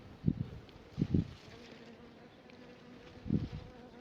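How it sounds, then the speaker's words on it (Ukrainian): Bees fly around bean plants in a vegetable garden, their buzzing passing close in three short, loud swells over a quiet outdoor background. "Бджілки літають"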